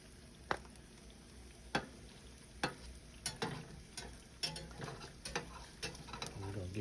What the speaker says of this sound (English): I'm gonna put on that egg.